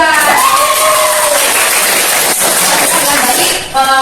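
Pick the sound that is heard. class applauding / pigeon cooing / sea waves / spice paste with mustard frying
class applauding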